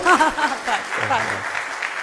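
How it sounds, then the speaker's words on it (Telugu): An audience clapping at a talk, a brief burst of applause that rises after a speaking voice and carries on with a few faint chuckles. "మీరు క్లాప్ ఇప్పుడు కొట్టండి"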